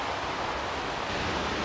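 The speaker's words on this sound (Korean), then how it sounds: "곳곳에 이렇게 물이 다 흐르고 있고요." Stream water in a shallow mountain valley in Korea's Yeongnam Alps flows steadily with a dense, close rushing wash and no voices.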